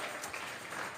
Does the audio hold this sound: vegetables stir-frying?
no